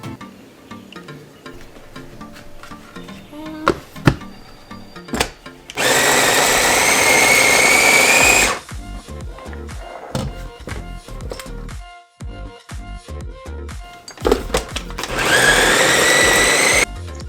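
Two loud bursts from a kitchen blender, each about three seconds long, straining as it churns a thick vegan breakfast mix packed with sunflower seeds, with knocks and clatter before and between them.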